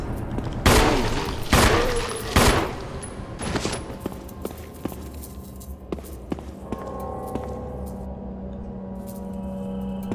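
Loud gunshots in the Resident Evil HD Remaster game, with three or four heavy reports in the first few seconds, followed by quieter clicks, footsteps and a low droning background.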